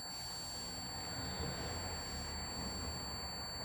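An electronic buzzer rings in one continuous steady tone, moderately loud and unbroken, over a faint background hiss with no talking.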